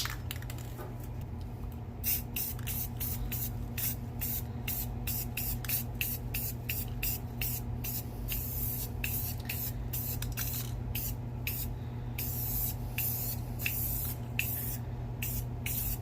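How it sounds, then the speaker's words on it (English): Spray paint hisses onto bead-rolled metal art, coating the area behind a bone shape and letters, with rapid short bursts repeating in a steady rhythm over a constant low hum, close and clear. "I'm going to spray this area behind the bone and the letters"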